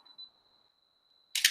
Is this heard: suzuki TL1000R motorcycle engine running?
no